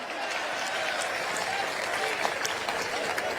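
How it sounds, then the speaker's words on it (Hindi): Audience at a Hindi kavi sammelan poetry recital with Kumar Vishwas applauding, dense sustained clapping from a large crowd that fills the whole stretch at an even, loud level. "ताली बजाओ, सांस लेना है।"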